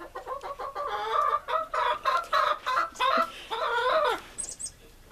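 Orloff chickens cluck close by while dust bathing, a run of short, repeated clucks in an uneven rhythm, with a brief high bird chirp near the end.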